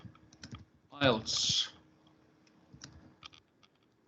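Computer keyboard keys click in quick, scattered bursts close by, with a brief spoken phrase in the middle and a faint hum underneath.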